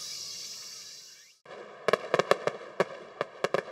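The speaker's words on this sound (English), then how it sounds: "The fireworks display in the Meiji Jingu Outer Garden is one of the famous sights of summer in Tokyo." Fireworks display at Meiji Jingu Outer Garden, Tokyo, in summer: a steady rushing hiss cuts off, then about ten sharp, loud bangs and crackles burst out in an irregular quick sequence.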